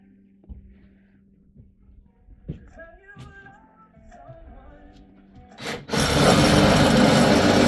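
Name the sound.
Sawzall reciprocating saw cutting wood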